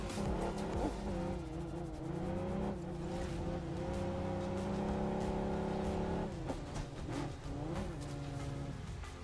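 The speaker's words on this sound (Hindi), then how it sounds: "ये फटीचर गाड़ी थोड़ी देर तो घुमानी पड़ेगी मेरे को" Engine of a car driven in the mobile battle royale game BGMI, steady and loud throughout with rising and falling revs, tyre squeals and skids, and a game soundtrack running underneath.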